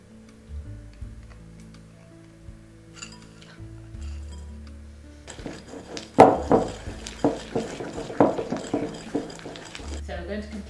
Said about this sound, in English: Mix those together and whisk.